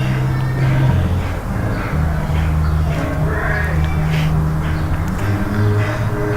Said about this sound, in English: Crows. Maybe they'll come down and eat some bread.